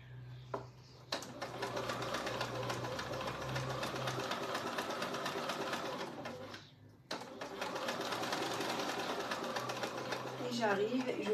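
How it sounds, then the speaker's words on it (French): A sewing machine stitches the seam of a besace bag, running in two steady sustained bursts with a short pause between, while someone talks quietly over it. "je vais faire 3 petits points sur place pour bien sécuriser ma couture"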